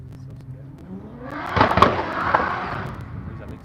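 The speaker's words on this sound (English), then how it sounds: "Alexis Harris leaving with his Supra." A Toyota Supra drift car at a Cyprus practice session pulling away, its engine note rising to a loud revving burst with a few sharp knocks mid-clip, then fading as it moves off.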